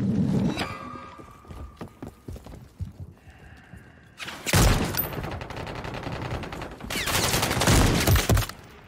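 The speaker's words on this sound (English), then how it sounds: "Taking effective fire." Gunfire in Modern Warfare 3 online gameplay, with rapid bursts and heavy fusillades crashing in loudly around the middle and again near the end, between quieter stretches of scattered shots and game noise.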